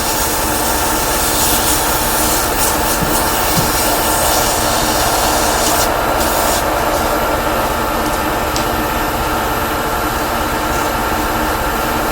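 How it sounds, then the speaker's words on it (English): Steady, continuous abrasive rubbing of sandpaper on wood, a dense broadband hiss that persists throughout without pause. "sanding."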